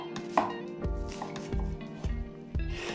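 A knife chops apple and other ingredients for teppanyaki sauce on a cutting board, a run of sharp, close knocks coming at a steady, unhurried pace.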